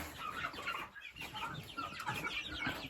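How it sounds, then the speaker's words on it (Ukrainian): Lohmann Brown young roosters cluck and murmur close by in a continuous, busy chatter, with several birds calling over one another. "А це півники Ломан Браун."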